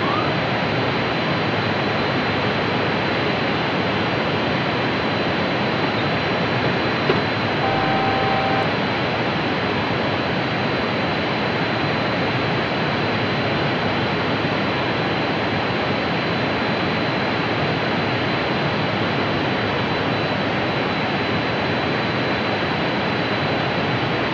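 Airliner jet engines roaring steadily during takeoff climb, a loud, unbroken wash of broadband noise that holds constant throughout.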